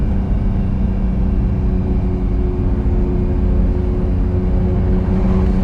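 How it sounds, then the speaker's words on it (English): A car engine drones steadily while the car climbs the road up Colorado National Monument, a continuous loud low rumble with a faint whir above it and no talking. "being, you know, with the lease and out with the car and just hearing the engine"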